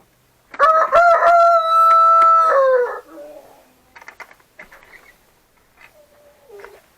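A rooster in a farm chicken coop lets out one loud, drawn-out crow nearby, followed by softer clucking and scattered chicken sounds.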